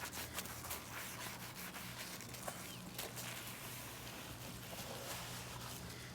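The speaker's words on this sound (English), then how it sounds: "to clean some of the dirt and grime out of your window tracks." A sponge scrubs dirt and grime out of window tracks, producing a soft, steady rubbing and scraping, close but quiet, with no talk.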